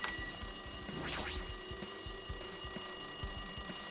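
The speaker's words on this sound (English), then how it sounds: "Looks like that phone is ringing." A telephone rings in the video game Danganronpa 2, a bright repeating electronic trill with steady, evenly spaced bursts heard clearly and alone, no voices over it.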